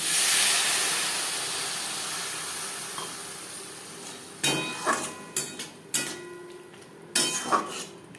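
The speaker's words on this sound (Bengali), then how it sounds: "পেঁয়াজ টমেটো 4-5 মিনিট ভেজে নেওয়ার পর দিয়ে দেবো জল।" Water poured onto onions and tomatoes frying in a pan, a loud hiss at first that fades away, followed by several sharp clanks of a utensil against the pot.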